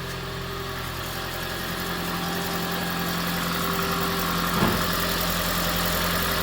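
A 2010 Toyota Prius 1.8 engine idles steadily after a head gasket repair, a smooth continuous hum with no talk and one brief louder bump near the end.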